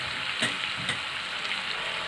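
Meat frying in a pan with ginger and garlic, a steady dense sizzle throughout with a couple of brief stirring clatters, close and fairly loud.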